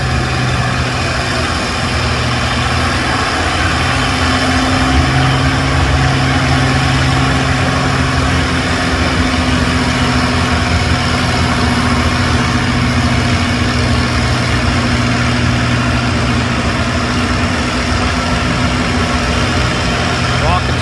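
A John Deere 4010 tractor engine drones steadily and loudly at a county fair tractor pull, a continuous heavy rumble that never lets up, with an announcer talking over it.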